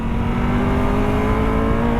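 Triumph Tiger 1200 Rally Pro motorcycle with a triple engine, a steady meaty hum of the motor running continuously and fairly loud, with no voices over it.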